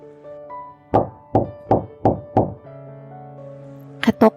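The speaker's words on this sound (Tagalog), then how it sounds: "Katok na nagmula sa labas ulit ng pinto ni Luis." Five firm knocks on a door from outside, evenly spaced and fairly loud, followed after a pause by two quicker raps, over a quiet sustained musical background.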